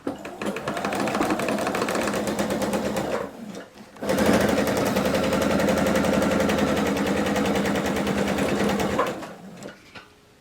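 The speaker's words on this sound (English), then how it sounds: "once again, we will assembly line sew just as we did the first one" A sewing machine stitches quilt block pieces in two long, steady runs of rapid needle chatter, separated by a brief pause, before stopping near the end.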